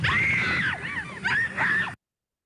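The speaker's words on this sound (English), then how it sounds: "This first sound is a screaming woman." A recorded woman's scream is played back: high, strained cries in several sustained bursts with brief gaps between them, loud and close, with no other voices.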